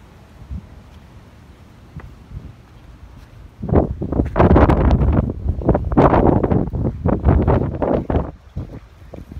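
Wind gusts outdoors on an overcast day, buffeting the microphone with loud, irregular rushes after a quieter start.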